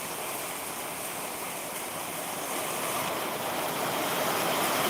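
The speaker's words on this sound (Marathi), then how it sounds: "मुसळधार पाऊस जेवळीमध्ये पडत असताना आपण या ठिकाणी पाहतोय" Heavy monsoon rain pours down on the village of Jevali in a steady, loud, broadband roar that builds slightly toward the end, with no voices.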